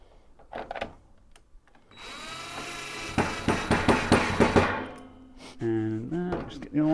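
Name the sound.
power drill driving a screw into a desk frame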